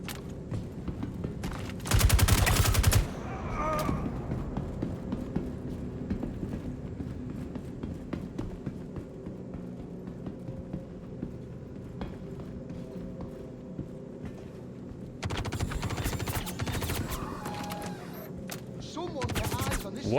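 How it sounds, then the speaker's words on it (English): Bursts of rapid gunfire in the video game Star Citizen, aimed at an Ursa vehicle, come in two loud volleys a few seconds long, separated by quieter game sounds and a voice talking. "I'm shooting the Ursa!"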